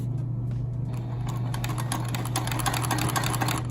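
A sewing machine backstitches a pocket on activewear, giving a steady motor hum under a rapid, even chatter of needle strokes that runs close and continuous.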